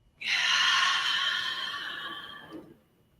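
One long, deep breath drawn in and released slowly, close and soft, tapering off gently at the end with no talk.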